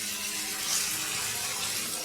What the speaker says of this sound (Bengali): এখানে আরেকটু জল দিব